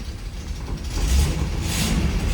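Engine of a 1987 Pontiac Firebird idling after sitting for 22 years, a loud, close, steady low rumble that swells slightly midway through.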